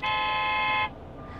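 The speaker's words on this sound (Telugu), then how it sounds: "ఇది నొక్కితే హార్న్" Toy horn on a toddler's play steering wheel, one steady electronic beep held for almost a second and then cut off, loud and close.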